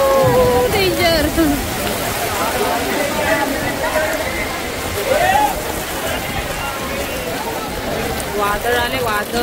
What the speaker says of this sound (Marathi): पाऊस का तेवढा लागलेला आहे.